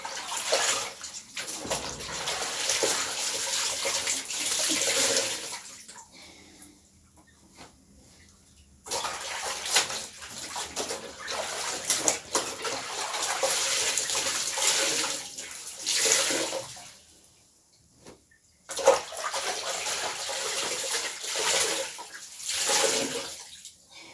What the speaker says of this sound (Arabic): اغسل بقى الشوية اللي فاضلين دول ونشطفهم بقى مع بعض